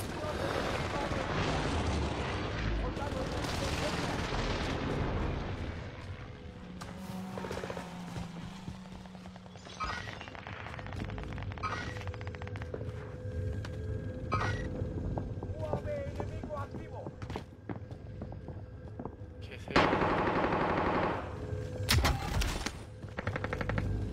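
Battle royale video game gunfire crackles in rapid automatic bursts and single shots amid chaotic in-game effects, with players talking over the action.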